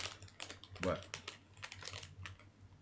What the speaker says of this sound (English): What is all that crumple shit?